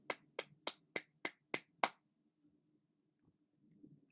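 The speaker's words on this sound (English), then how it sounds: "I'm clapping because I haven't seen this all year." One person claps hands seven times in a quick, even rhythm while watching a Rangers hockey game. The claps are sharp and close, followed by near silence and faint background murmuring.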